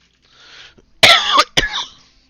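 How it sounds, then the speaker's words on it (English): A person coughs twice close to the mic, two sharp harsh bursts about half a second apart, each trailing into a rasp. A faint breath comes before them. "Sorry for the cough, guys."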